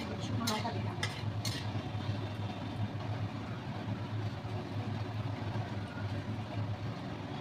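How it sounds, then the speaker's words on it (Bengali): Green and dried chillies fry in hot oil with a steady, close sizzle under a low background hum. A few sharp spattering pops come near the start. "ছ্যাঁচ্ছা করে ফুটে উঠবে, ছিটকাবে তেলটা"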